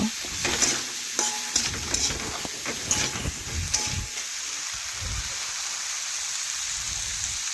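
A spoon scrapes and stirs through eggplant and potatoes frying with turmeric and chili powder, with several sharp clinks and scrapes in the first half over a steady soft sizzle that carries on alone.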